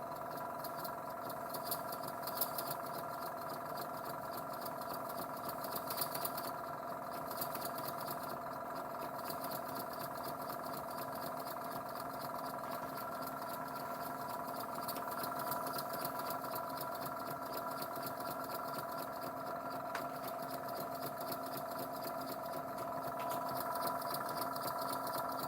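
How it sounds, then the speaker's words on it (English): A workshop air compressor runs steadily throughout, a constant mid-pitched mechanical drone with a faint hum, moderately distant and unbroken, with no talking. "Yeah, the compressor is quiet, but you've got to work next to it."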